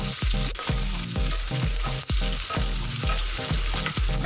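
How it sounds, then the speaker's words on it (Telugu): Onions frying in a pan with curry leaves for a garlic-chili pulusu, a loud continuous sizzle broken by regular spatula scrapes and stirring knocks, with no talk. "ఉల్లిపాయలు మరీ ఎక్కువ వేగన అవసరం లేదు, ఇలా వేగితే సరిపోతుంది"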